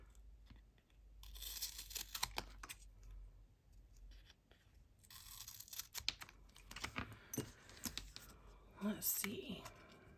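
Scissors snip through paper during card assembly for a baby bear card, giving a few close, soft cutting and rustling bursts with quiet whispery handling noise between them.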